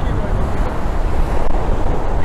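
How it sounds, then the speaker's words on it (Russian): Storm waves pound a Crimean seaside embankment in a deep, heavy roar, with strong wind buffeting the microphone and surging water filling the scene. "Вон идут большие волны."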